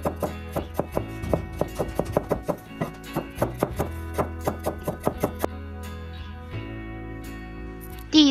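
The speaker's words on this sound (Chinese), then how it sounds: "然后把这个莴笋切成薄片" A knife slicing a peeled celtuce stem into thin slices on a cutting board, with a rapid, even run of close, crisp chops that pauses briefly before a final few cuts.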